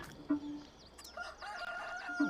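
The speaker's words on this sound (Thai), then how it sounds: "ตรงนี้เลี้ยงไก่ โอเค ฉันเข้าใจแล้ว ให้อาหารไก่ได้" Chickens in a Farming Simulator 23 farmyard, a rooster's crow rising and falling across the middle while hens cluck in short bursts at the start and end, clear and close with no talk.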